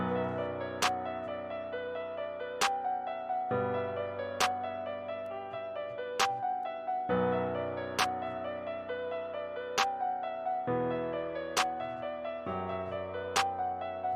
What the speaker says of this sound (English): we got this clap sound. It's like a combo clap snare